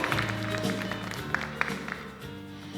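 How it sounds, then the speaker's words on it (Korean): An audience at a dance competition for artists with disabilities applauds a judge's introduction with a soft, steady spatter of clapping, and a faint tonal hum sits underneath. "박수 부탁드립니다"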